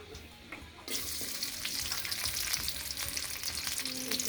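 Chopped onion with green chilies drops into a hot pan at about one second and sizzles loudly and steadily from then on, a close, crackling fry with no talking.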